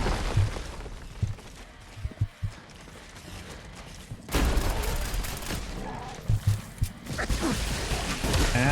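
Grenade launcher firing in Fallout 4 during a fight with a fog crawler, loud thumping blasts and bursts of gunfire, with a heavy wave of explosive noise in the second half.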